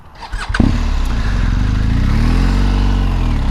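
A motorcycle engine idles up and revs steadily during slow U-turns with the clutch slipping, a loud, close, continuous drone that rises at the start and holds with slight surging.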